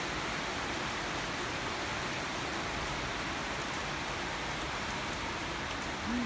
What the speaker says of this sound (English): I just hope that after a couple of hours rain will stop.